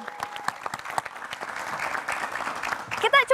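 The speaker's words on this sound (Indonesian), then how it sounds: "Tepuk tangannya lagi dong." A studio audience on a football talk show gives a round of applause, a modest spread of claps with a voice over it, then a sharp burst of louder sound at the end.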